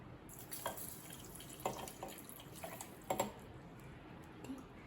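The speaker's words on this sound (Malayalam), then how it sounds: "നമുക്ക് ഇച്ചിരി വെള്ളം ഒഴിച്ച് കൊടുക്കാം." Water is poured into a soursop juice mixture sweetened with sugar, giving a soft, faint trickle and a few light splashy drips against quiet room noise.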